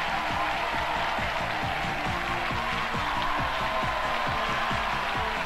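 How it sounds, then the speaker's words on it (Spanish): An audience gives a sustained ovation for a singer from El Sauzal on a TV show, with dense, steady applause and clapping filling the room at an even loudness throughout. "ovación cerrada, por favor"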